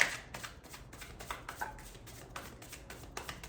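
A deck of cards being shuffled close by, a quick run of soft riffling bursts and taps repeating steadily, with no talking.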